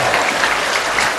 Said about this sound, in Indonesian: Tepuk tangan semua untuk 3 kelompok